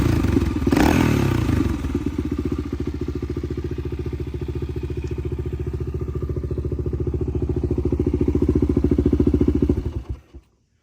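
Honda XR400 motorcycle idling steadily after a carburetor clean and rebuild, a loud, close single-cylinder thump that runs for about ten seconds and then cuts off.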